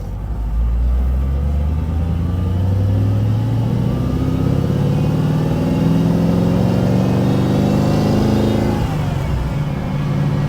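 A Dodge W200 pickup pulls in first gear, its engine droning loud and close with a steadily rising pitch as it accelerates, no voices over it.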